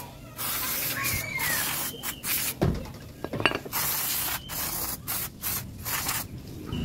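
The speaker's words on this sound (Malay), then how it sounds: "spray ni dia jenis cepat kering ya" Quick-drying cleaner sprayed onto car brake parts during a Myvi rotor disc and brake pad service, several loud close hissing bursts separated by short pauses, with some faint metallic clinks.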